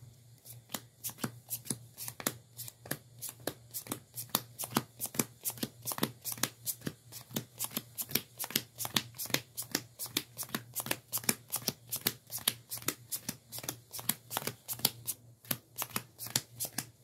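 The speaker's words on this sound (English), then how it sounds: "let's shuffle the deck" A deck of cards being shuffled over and over at a steady rhythm, each riffle a sharp close flutter repeating regularly for about seventeen seconds, with no talk.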